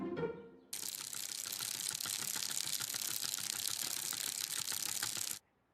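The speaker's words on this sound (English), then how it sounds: "Bicycle wheels." Cartoon bicycle wheels turning give a steady, fast ticking whir, a dense ratcheting clatter that runs evenly for several seconds before cutting off sharply.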